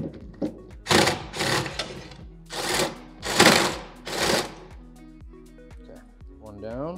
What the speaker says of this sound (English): Paddle bits always do that when they break through the backside.